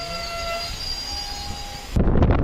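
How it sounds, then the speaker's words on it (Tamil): A train rumbles and slows with a high metallic wheel squeal, then a loud burst of low rumbling and hissing as it comes to a halt at Koyilandy railway station. "இப்போது ட்ரெயின் நிற்கிறதாங்க கொயிலாண்டி ரயில்வே ஸ்டேஷன்"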